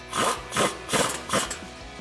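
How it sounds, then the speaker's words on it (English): A 12mm socket ratchets a brake line bracket bolt tight on a Toyota 4Runner during a brake job, four evenly spaced rasping clicks close up with no talk. "Then grab your 12mm socket and tighten that down."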